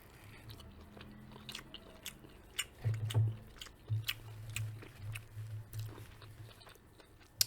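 Close chewing of cheddar egg bites flavored with rosemary, soft repeated bites and squishy mastication with occasional crisp crunches, steady munching with no talking.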